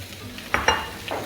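Onions fry in extra virgin olive oil in a hot pan, a soft steady sizzle with a few scraping stirs, close up and without talk.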